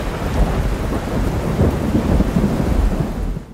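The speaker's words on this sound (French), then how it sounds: "on est obligé de rester à la maison parce qu'il y a une énorme tempête dehors" A heavy thunderstorm rages outdoors in Cuba, with a dense, steady roar of pouring rain and low rumbles of thunder rolling beneath it. The storm is loud and continuous throughout, and no voices are heard.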